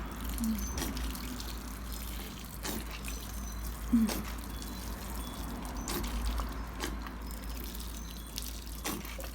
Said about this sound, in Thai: ใส่น้ำให้ชุ่มเลย ชุ่มฉ่ำไปเลย